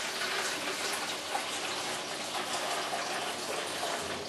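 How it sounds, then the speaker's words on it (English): Hot water runs from a tap into a bucket in a steady, fairly loud gushing hiss that continues without a break, close by, with no talking. "We'll just run until we get hot water from the tap, and then we pop that bucket under and just fill it up"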